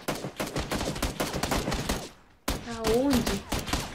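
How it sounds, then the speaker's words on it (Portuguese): Gunfire in the PUBG video game on Xbox One: bursts of rapid shots come in dense clusters, loud and close, while a couple talk over it and the firing breaks off briefly before resuming. "Mas não tá atirando na gente. Tá atirando em mim."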